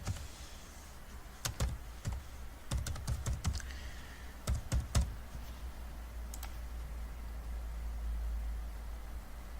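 Test credit card details being typed on a computer keyboard, irregular bursts of sharp key clicks in quick clusters, close and fairly quiet over a steady low background hum, then a lull with only a couple of late taps.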